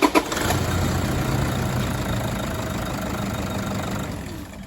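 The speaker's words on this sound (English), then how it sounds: "car's been idling for about 5 minutes." A car engine idles steadily nearby, a low even rumble that holds for several seconds after a couple of brief clunks at the start.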